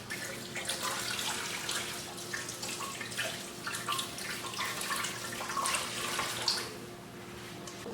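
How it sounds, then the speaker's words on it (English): Tap water running steadily into a sink while deboned fish is rinsed, a faint continuous splashing hiss with small drips, close and without talk. "now we're just gonna rinse the fish off"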